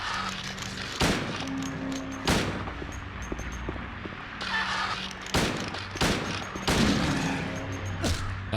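Gunfire in the video game Silent Hill 2: a string of sharp, loud shots fired at irregular intervals over a constant background hum, some in quick pairs.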